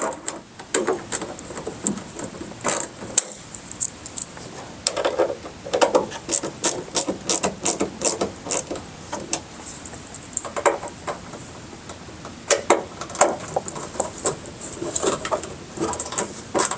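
Close, steady clicking of a ratchet wrench tightening bolts on a mud flap on a 2020+ Chevrolet Silverado HD pickup, coming in repeated bursts with brief pauses and no voices.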